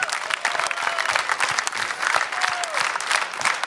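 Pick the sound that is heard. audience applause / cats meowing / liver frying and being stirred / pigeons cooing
audience applause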